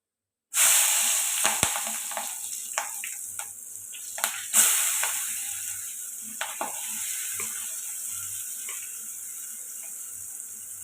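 Onions and green chillies hit a hot frying pan with a sudden loud sizzle that continues steadily, while a spoon stirs and clinks against the pan. Stirring scrapes mark the first half, and the sizzle fades slightly over time.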